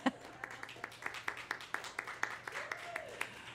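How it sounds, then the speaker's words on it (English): A live audience at a studio bluegrass show claps in a steady patter of individual hand claps that carries on for several seconds, with a voice speaking over it. "Yes, you can applaud, it's allowed."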